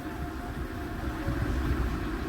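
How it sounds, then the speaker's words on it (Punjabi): A steady low rumble of a railway locomotive idling and moving slowly on the tracks as it is turned around, continuous and fairly close. "ਇਸ ਤਰ੍ਹਾਂ ਮੋੜਿਆ ਜਾਂਦਾ ਰੇਲ ਗੱਡੀ ਦੇ ਇੰਜਣ ਦਾ ਮੂੰਹ"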